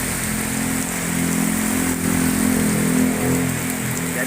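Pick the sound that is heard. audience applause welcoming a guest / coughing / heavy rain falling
heavy rain falling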